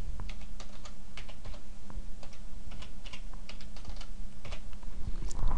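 A password is typed on a computer keyboard in a steady, close run of light key clicks with small irregular pauses, and no one speaks.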